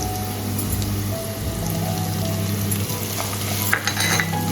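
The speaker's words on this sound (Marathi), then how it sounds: "चला त्यांना पण आपण तुपामध्ये फ्राय करून घेऊया" Green chillies frying in hot ghee in a pan, a steady dense sizzle with light stirring scrapes, close and continuous with no talking, while sabudana khichdi is being made.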